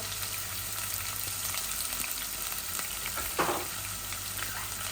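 Onion frying in a pan while meat chops are cooked, a steady close sizzle with a brief scrape of stirring partway through.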